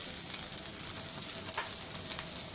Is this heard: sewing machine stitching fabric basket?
no